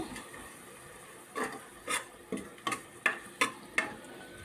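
Tomato frying with ginger garlic paste in a pan for mutton leg soup, a faint sizzle overlaid by a steady series of about seven distinct spatula scrapes, close by.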